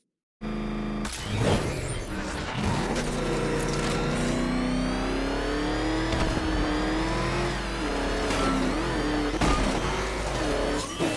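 Batman: Arkham Knight video game car engine revving hard, a loud continuous roar rising and falling in pitch as it accelerates, close and without talk.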